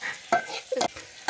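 Onion, tomato and curry leaves frying in hot oil and being stirred for a quick masoor dal curry, bursts of spoon scraping and sizzling in short uneven strokes, close and moderately loud, with no voices.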